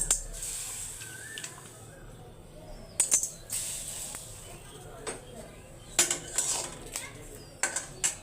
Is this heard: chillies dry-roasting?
yes